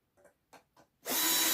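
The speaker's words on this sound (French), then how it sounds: "Et on visse." Flat-pack furniture assembly for an observation tower, a few faint knocks and clicks, then a loud, sustained whir of a power screwdriver driving a screw.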